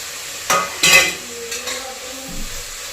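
Food frying in a pan on a home stove, with a few loud stirring and scraping bursts over a soft, steady sizzle.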